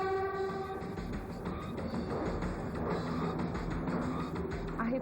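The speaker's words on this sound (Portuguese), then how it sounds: "Pelas linhas não atingidas, os trens voltaram a correr." Trains running on undamaged lines at São Paulo's Luz station, a steady loud rumble of rail cars with sustained horn-like tones and clatter throughout.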